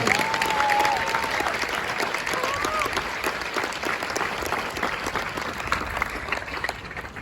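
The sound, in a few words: audience applause at a graduation ceremony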